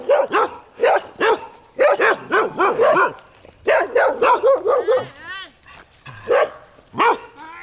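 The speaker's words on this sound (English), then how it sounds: "Look at these bloody dogs." Several aggressive stray dogs bark repeatedly and close by in rapid bursts on a mountain near a temple in Phatthalung, Thailand, with a whine among them and a person talking over the noise.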